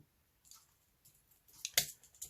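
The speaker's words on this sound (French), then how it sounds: "Les ciseaux" Small scissors on a Victorinox Swiss Champ XLT Swiss Army knife snip a few times, faint quiet clicks with one sharper cut near the end.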